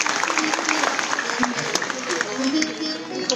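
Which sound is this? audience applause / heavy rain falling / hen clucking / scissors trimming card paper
audience applause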